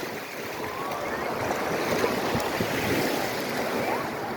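Ocean waves breaking at a crowded beach on Cap d'Agde's Roquille shore, with wind buffeting the microphone; a steady, loud wash of surf and gusts fills the whole stretch without let-up.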